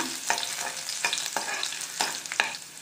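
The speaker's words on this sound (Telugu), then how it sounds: "ముందుగా జింజర్ గార్లిక్ వేసుకోవాలండి. కొద్దిగా ఇలా ఫ్రై చేసుకోవాలి." Ginger and garlic frying in a pan, a soft steady sizzle punctuated by four or five brisk scraping stirs of a spoon, close and moderately quiet.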